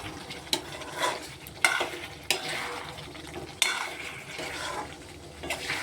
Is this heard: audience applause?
no